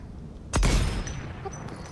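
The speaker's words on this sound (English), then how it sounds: "I'm shooting them right now" A single loud gunshot or blast in a Fortnite squad match hits hard near the start, followed by a rumbling decay and a few faint game sounds.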